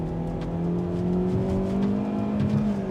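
A 2024 Hyundai Elantra's engine buzzes under hard acceleration, a steady, rising drone heard from inside the car with road noise beneath and no talking.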